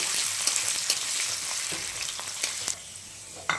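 Continuous hiss and crackle of potatoes frying in hot oil, punctuated by occasional clicks and scrapes of stirring.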